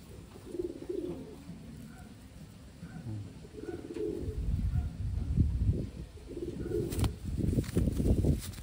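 Taiwan pigeons cooing softly in repeated low throaty bursts, fairly close, with rustling and handling noise building toward the end.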